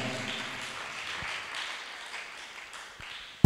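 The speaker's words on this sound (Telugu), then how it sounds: "గట్టిగా చప్పట్లు కొడదాం." A church congregation at a Palm Sunday worship service applauds loudly, a steady wash of many hands clapping together that holds for a few seconds, then ends in a sudden sharp knock.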